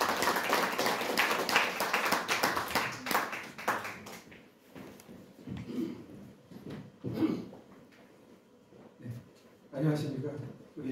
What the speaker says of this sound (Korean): 박수로 맞이해주시기